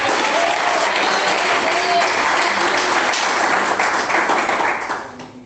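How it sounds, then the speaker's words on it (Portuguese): A church congregation breaks into sustained applause during a sermon, a thick, continuous clapping that holds steady before fading out near the end. "Quem bate palmas?"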